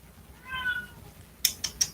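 A house cat gives one drawn-out, clear meow close by, followed by a few quick, crisp clicking or ticking sounds; the setting is otherwise quiet.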